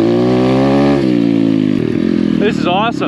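A small Chinese Apollo dirt bike engine revs hard on a steep hard-enduro hill climb, a loud, close, steady buzz that drops and climbs again through gear changes while a rider talks excitedly over it.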